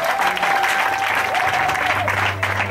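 A church congregation at a Sunday revival service applauds and cheers for the Lord, dense sustained clapping with crowd noise and a voice running through it.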